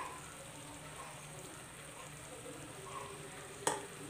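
Quiet, steady sizzle of spice powders frying in a pan for butter chicken, with soft stirring scrapes and one brief sharp clink near the end.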